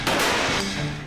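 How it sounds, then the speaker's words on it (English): An air cannon blasts slushy ice in one loud, sustained burst that fills the whole moment, with no talking. "and the dreaded Slushy out of their air cannon."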